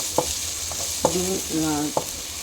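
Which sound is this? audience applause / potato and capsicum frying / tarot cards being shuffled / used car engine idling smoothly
potato and capsicum frying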